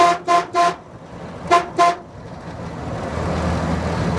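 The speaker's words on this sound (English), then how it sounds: "That horn sounds more like it's rattling the hood than anything" A 1951 Chevy 3100 farm truck horn gives five short, buzzy, hood-rattling honks in two groups, three then two, followed by a steady engine rumble rising underneath.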